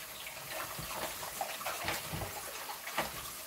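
Turkey gizzards are washed under cold running tap water, a steady close splashing gush with small bursts as the meat is rubbed and turned, and no one speaking.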